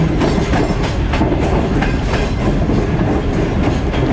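A passenger train on a Pakistan railway rolls in slowly on its approach to Hyderabad, a loud, close, steady rumble with rhythmic clickety-clack of wheels over rail joints and a faint squeal.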